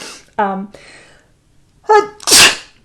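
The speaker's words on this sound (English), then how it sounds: "I'm going to go sneeze" A single loud sneeze bursts out near the end, preceded by short breathy vocal sounds and a sharp inhale.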